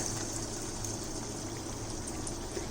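Steady, dense sizzling and bubbling of cauliflower fritters (pakoda) deep frying in hot oil, continuous and fairly close, with no talking.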